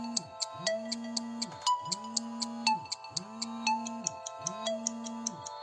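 A phone ringtone plays a repeating melodic pattern of bright chimes and tones at a steady pace, fairly quiet and with no talking over it.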